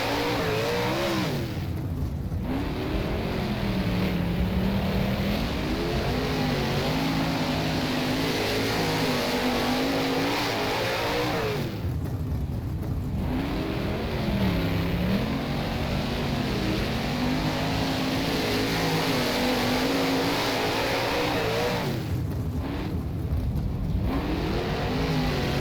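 410 sprint car engines racing at Williams Grove in rFactor, a loud continuous roar rising and falling with revving, with brief throttle lifts at regular intervals.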